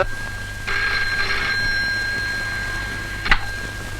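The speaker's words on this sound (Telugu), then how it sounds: "నాన్సీ, నీకు ఫోను." A telephone rings in a home, with two short electronic rings over a steady background hum and faint hiss.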